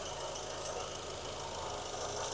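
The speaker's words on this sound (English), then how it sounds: "we'll go ahead, start the engine, and see if the squeak is gone" Honda Accord CL9 engine idling with a freshly replaced serpentine belt, a steady continuous hum and rumble held close and unbroken throughout, with no squeal audible.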